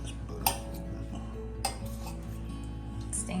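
A metal whisk clinking and scraping against a stainless steel pan of butter, bacon grease and flour over medium heat, with sharp isolated taps standing out over steady soft stirring close to the pan.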